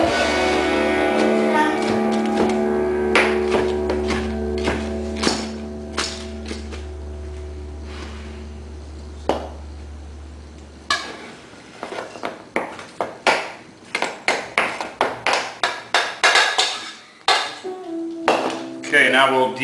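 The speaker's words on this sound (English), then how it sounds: "So just a rough chop on these onions." A knife rough-chops onions on a board for shrimp tacos, landing as a quick, uneven run of sharp, close knocks in the second half after a steady humming stretch with no cutting.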